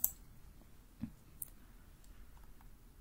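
One faint mouse click sounds near the start, followed by a couple of fainter ticks in a quiet room, as a dark theme button is clicked in the ServiceNow Theme Builder.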